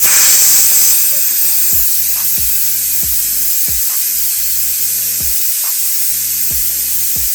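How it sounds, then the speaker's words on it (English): Steam hisses out of a pressure cooker's vent as its weight is lifted with a spoon: a loud burst at first that settles into a steady, sustained hiss under background music. "Use this spoon to just lift the weight."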